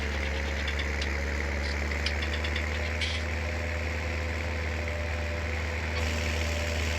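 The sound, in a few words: small tractor engine idling, from video game Farming Simulator 19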